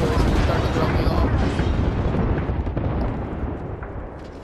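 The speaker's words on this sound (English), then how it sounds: "I'm shooting on this decoy, so he's starting to throw me off." Dense gunfire and explosive bursts from the battle royale video game Apex Legends, loud and continuous throughout, with a player talking over the shooting.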